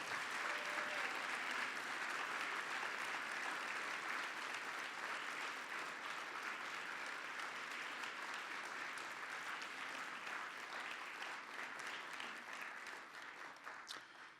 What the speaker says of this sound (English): Let's give one more sustained applause for all 5 of our speakers.